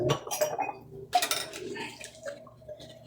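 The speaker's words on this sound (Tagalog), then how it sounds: "So tayo naghuhugas ng plato" Plates and cutlery clink and clatter in a sink while dishes are washed by hand, a string of light, close knocks and scrapes with a little water trickling between them.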